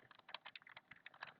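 Quick, irregular keystrokes on a computer keyboard while entering text into a Python program, a soft close-up clatter of about a dozen key taps with no talking.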